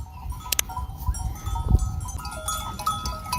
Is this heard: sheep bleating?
yes